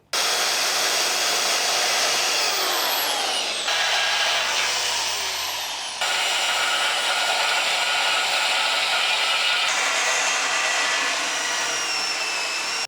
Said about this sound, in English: We'll see if the old Anker SOLIX can power up the bandsaw and get this thing cut up in smaller pieces.